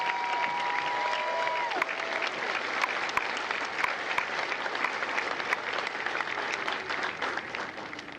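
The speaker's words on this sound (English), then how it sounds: "a round of applause for the Marines that make Marines" A crowd at a Marine Corps recruit graduation at MCRD San Diego claps for the drill instructors, a dense, sustained wash of applause with scattered sharp claps and a faint whistle, steady throughout and slowly easing.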